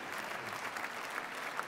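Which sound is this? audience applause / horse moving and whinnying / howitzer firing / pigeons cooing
audience applause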